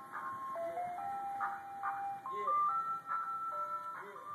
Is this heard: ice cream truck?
yes